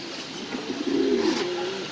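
Pigeons at a pigeon farm, one giving a low, soft rolling coo close by over a steady background of birds and room noise, lasting about a second.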